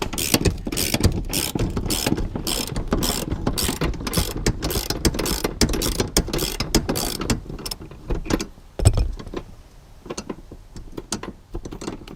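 A ratchet with a deep socket cranks out the seat bolts of a P71 Crown Victoria Police Interceptor, giving a loud, close run of rapid clicking that continues for several seconds before slowing and thinning into scattered clicks.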